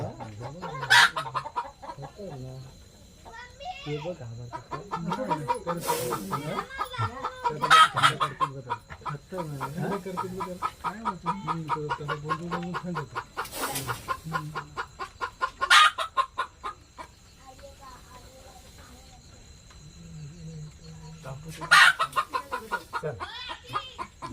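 Chickens clucking and crowing repeatedly at close range in a farm setting, with rhythmic calls throughout and occasional voices nearby.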